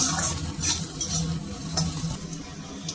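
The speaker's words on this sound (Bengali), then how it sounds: "লঙ্কাটা আর আদাটা দিয়ে হালকা করে একটু নেড়ে নিলাম।" Sliced green chillies and ginger stirred in hot oil for a tarka make a continuous close sizzle with soft scraping stir strokes throughout.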